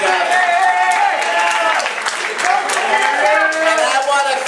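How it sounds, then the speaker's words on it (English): Audience applause at a Bronx town hall meeting, steady dense clapping throughout with crowd voices and cheering mixed in, loud and close. "Don't just applaud for Jason, applaud for everybody here tonight."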